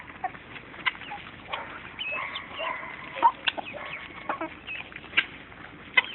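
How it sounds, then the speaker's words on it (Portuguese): Chickens cluck and squawk softly in short scattered calls, a small flock nearby, with faint background noise and no speech. "Dando papá pras galinhas?"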